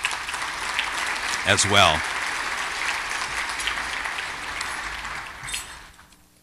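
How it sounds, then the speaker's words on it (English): Sustained applause from a luncheon audience honoring award winners, steady clapping throughout with a brief spoken phrase partway through before it fades toward the end. "So let's give all of the award winners or honorees a round of applause"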